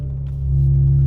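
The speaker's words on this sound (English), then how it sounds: "Sounds beautiful in startup." A BMW M4 xDrive engine settles into a steady, deep idle after startup, a loud low rumble that swells slightly toward the end, with no one talking.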